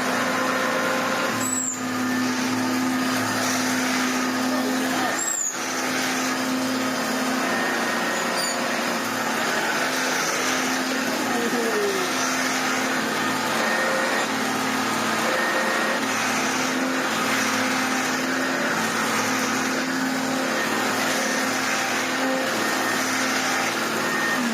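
A refurbished Hoover Turbopower Junior U1222 upright vacuum cleaner with a rebuilt TP1 motor runs steadily up close, a loud continuous whirring hum with a few brief clicks and no voices.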